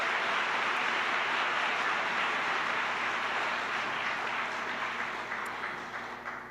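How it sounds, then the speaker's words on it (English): An audience at a student invention awards ceremony applauds an inventor's family, a steady, dense wash of clapping that holds for several seconds and then slowly fades, heard from a distance in a large hall. "So give them another round of applause."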